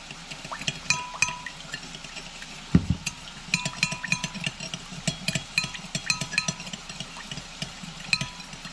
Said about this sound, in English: Simply stir it up and mix it up until that sugar is dissolved.